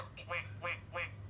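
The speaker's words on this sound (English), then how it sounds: "Duck." Electronic duck quacking from a LeapFrog touch-and-learn talking animal book, three short quacks in a steady rhythm over a low electronic hum.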